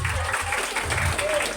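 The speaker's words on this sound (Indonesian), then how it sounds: "Tepuk tangan kita semua." A short burst of crowd applause at a school Isra Mikraj commemoration, brisk clapping from a gathered audience with voices faintly mixed in.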